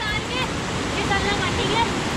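Rushing water at Badiyargarh waterfall pours in a steady, loud broadband roar with no pause, close by and continuous, its force undiminished throughout.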